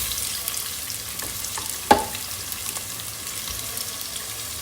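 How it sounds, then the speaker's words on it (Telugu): Onions and green chilies fry in hot oil with a steady, close sizzle, with one sharp clink of a utensil partway through and faint stirring scrapes. "తర్వాత మనం ఆనియన్స్, పచ్చిమిర్చి వేసేసుకోవాలి."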